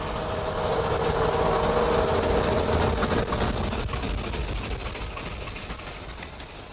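Ex-Admiralty 1954 narrow-gauge diesel locomotive Upnor Castle on the Ffestiniog Railway, re-engined with a Gardner engine, rumbling steadily nearby with a broad engine roar that slowly fades.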